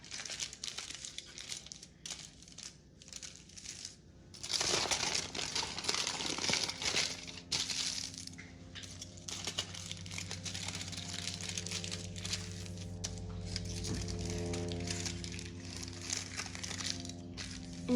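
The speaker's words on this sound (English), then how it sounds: "fold in the sides of the foil" Aluminium foil being folded in around the sides of a tortilla for an air fryer tortilla bowl, continuous close crinkling and crumpling that swells louder midway, with a low steady hum underneath and no talking.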